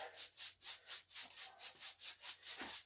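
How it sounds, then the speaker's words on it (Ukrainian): A plain brush sweeps dust off a sanded decorative plaster sample with a concrete-like texture, making soft, even back-and-forth scratchy strokes, about three per second. The sound is faint and close. "звичайною щіткою я його, так би мовити, підмитаю"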